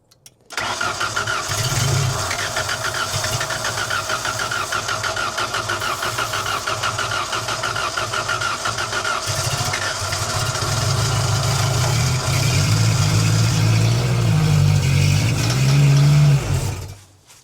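Old 1990s Genie man lift engine cranking over with a steady rhythmic starter churn for several seconds, then catching and running louder and rougher, close and dominant with no talk.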